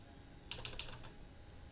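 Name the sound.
typing commands on a computer keyboard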